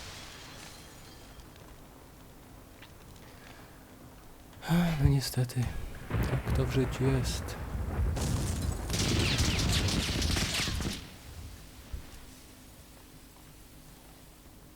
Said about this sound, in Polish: Coś ktoś tu strzelił, że takie wybuchy zaszły?